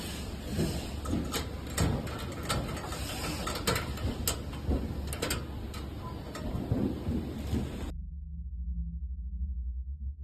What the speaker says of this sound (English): Tighten the 2 nuts at the bottom. Use a wrench to secure them.